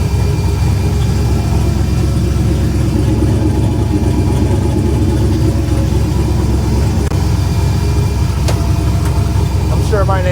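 A car engine idles, heard from inside the cabin as a loud, steady low rumble that drones on without a break.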